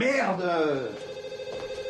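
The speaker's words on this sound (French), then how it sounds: "réponds au téléphone" Telephone ringing indoors, a clear electronic ring tone sounding steadily near the end, heard under and after a man's startled spoken exclamation.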